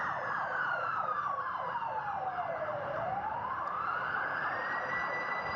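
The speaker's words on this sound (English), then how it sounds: "Fire engine." A fire engine siren wails continuously on a Melbourne street, its pitch sweeping down and then back up as the truck passes, loud and steady, with no talking.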